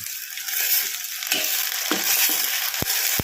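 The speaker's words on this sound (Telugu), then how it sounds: "ఇలా కొంచెం వేగిన తర్వాత అల్లం వెల్లుల్లి పేస్ట్ ఓ స్పూన్ వేసుకొని బాగా కలుపుకోవాలి" Ginger garlic paste fries in a pan with a continuous bright sizzle, while a utensil stirs and taps against the pan several times near the end, close up with no voices.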